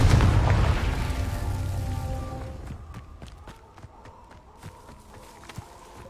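A Confringo spell blast in Hogwarts Legacy opens with a loud booming explosion that rolls and fades over a couple of seconds, followed by scattered crackles, thumps and small pops of debris.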